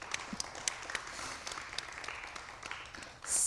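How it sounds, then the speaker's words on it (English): Applause from an audience for a panel at an entrepreneurship careers event, fairly soft and scattered clapping with a few sharper individual claps, lasting a few seconds before a louder sound cuts in at the end. "Round of applause."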